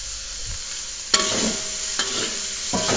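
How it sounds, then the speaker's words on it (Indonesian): Vegetables and dried shrimp are stir-fried in a pan for fried spring roll filling, a soft steady sizzle broken by a few sharp scrapes and clanks of the spatula stirring, close by with no talk. "Oke, kita oseng lagi"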